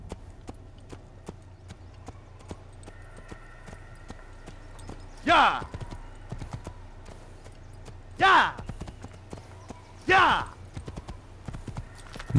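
A white horse in the video game Assassin's Creed clip-clops steadily, its rhythmic hoof beats running throughout, while three louder separate bursts of voice rise over them.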